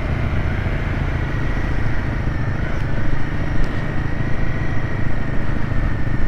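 Royal Enfield Himalayan motorcycles ridden at the ABR Festival off-road event, giving a steady close engine drone that holds at an even, loud level throughout.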